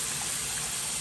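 Water runs steadily from a faucet into a newly installed vessel sink, a continuous close hiss and gush with no talk.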